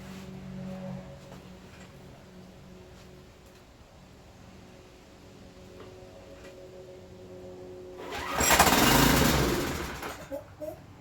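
A used Troy-Bilt pressure washer engine is started near the end, bursting into a loud, rough roar for about two seconds before sputtering down, after a long stretch of quiet background hum.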